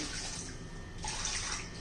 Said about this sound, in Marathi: तर पाणी घालूया